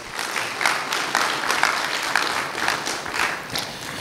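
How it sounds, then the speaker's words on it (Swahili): Audience applause fills a gala dinner hall, a dense steady wash of many hands clapping at moderate loudness, continuing evenly with no voices standing out. "Tafadhali tujipigieni makofi tafadhali."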